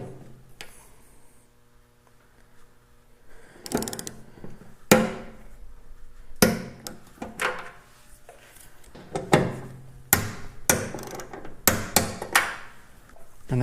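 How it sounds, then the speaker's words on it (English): A torque wrench tightening the quick-release trunk spool on an Indian motorcycle: a series of sharp, close metallic clicks and knocks, sparse at first and then coming in quicker bursts, loud against a quiet background. "Once you have the spool on finger tight, you're going to torque it to 25 foot-pounds of torque"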